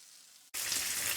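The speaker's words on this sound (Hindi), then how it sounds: "चिकन अच्छे से फ्राई हो गया" Chicken frying in a pan on low heat for biryani. A quiet hiss comes first, then a louder, dense sizzle after a brief cut, steady and close.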